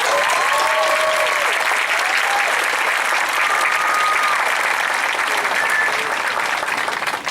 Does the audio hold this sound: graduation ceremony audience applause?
yes